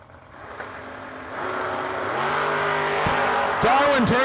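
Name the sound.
1988 Ford Mustang and Camaro drag racing launch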